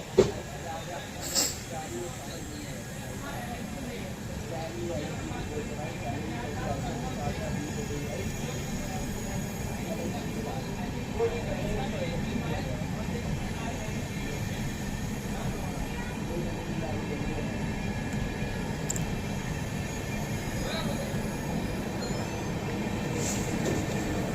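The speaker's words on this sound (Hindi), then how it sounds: "भाई पुष्पुल लोकोमोटिव के साथ चल रही है अपनी नौचंदी एक्सप्रेस।" Nauchandi Express arriving from Saharanpur, hauled push-pull style with a locomotive at each end, rumbles by in a steady, loud rolling roar with a faint hiss, sustained close throughout with no pause.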